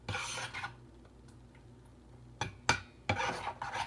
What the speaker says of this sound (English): Then I'm just going to mix all these wet ingredients together